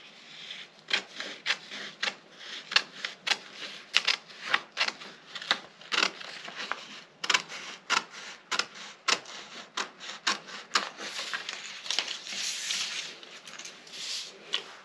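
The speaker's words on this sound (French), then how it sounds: "Je coupe sur la ligne de taille." Close snipping of scissors through fabric along a bustier waistline at a sewing table, with uneven bursts of cuts mixed with rustling cloth and paper and no voices.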